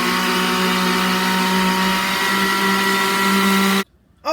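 An electric mixer whirs steadily on low speed through red velvet French toast filling, a constant close motor drone that cuts off abruptly near the end, followed by a brief quieter stretch.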